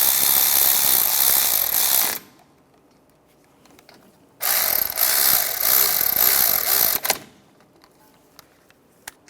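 Ratchet tightening the brake caliper bolts on a 2011-2015 Chevrolet Cruze, two bursts of rapid, loud, close clicking separated by a pause, ending in a few isolated clicks.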